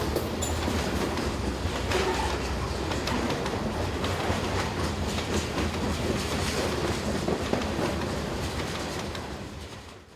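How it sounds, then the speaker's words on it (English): A Maryland Midland Railway cement train rumbles past steadily, with constant wheel noise and faint clickety-clack rhythm at a moderate distance, slowly fading toward the end. "this cement train was probably the only regular working operated by the Maryland Midland Railway"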